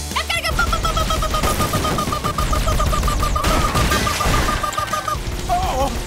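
Cartoon gunfire from a haunted tank in an animated Halloween episode, with a loud double shot followed by sustained rapid blasts and booms under a music score, dense and continuous throughout.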